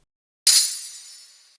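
A third percussion sample layer for a rock impact strikes once with a bright, glassy clink, then sustains a high shimmering ring that fades slowly, alone and close.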